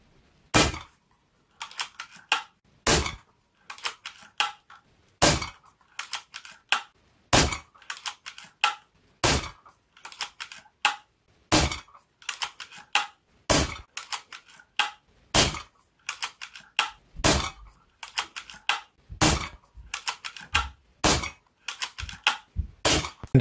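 A Zbroia Kozak bullpup air rifle is fired through a full magazine. Sharp, close pops ring out one at a time at a steady, unhurried pace, about thirty-odd shots with short gaps between them, and no talking.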